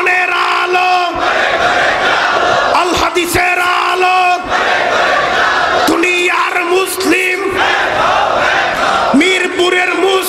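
A large crowd at a Bangla religious gathering shouts "Allahu Akbar" in loud unison as a call-and-response, several surging chants with a voice leading them.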